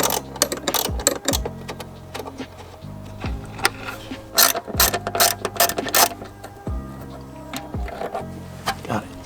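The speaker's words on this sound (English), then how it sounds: "Oh yeah, my ratchet." A ratchet wrench is worked in short bursts of rapid clicking, close by, with a low motor-like hum underneath and sharp metallic knocks between strokes.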